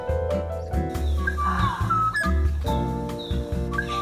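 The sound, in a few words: birds singing at Deoksugung palace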